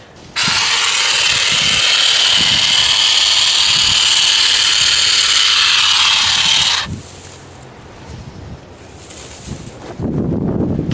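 An EVEAGE light-duty cordless hedge trimmer buzzes loudly and steadily while cutting brush outdoors for about six seconds, then stops, leaving quieter rustling and faint background sounds.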